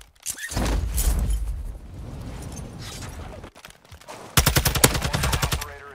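Rapid automatic gunfire in Call of Duty DMZ, loud sustained bursts with a sharp, steady volley near the end, dense and continuous throughout.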